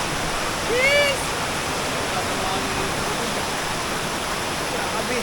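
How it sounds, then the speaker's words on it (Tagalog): Strong floodwater from flooded farmland rushes in a steady, loud roar that fills the whole clip, broad and continuous, with a brief shout early on and voices faintly around it. "Ang lakas ng tubig."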